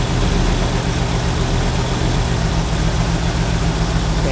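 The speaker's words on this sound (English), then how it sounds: "You hear the idle drop down." A 327 car engine idles steadily and continuously up close, a low rumbling drone with no clear drop in pitch evident.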